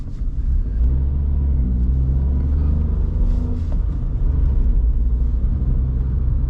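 A Dacia Sandero Stepway 1.0 TCe, a 2023 model with 90 hp, cruises on a highway at night. A steady, loud low rumble of road and engine noise fills the cabin without a break and with no talking.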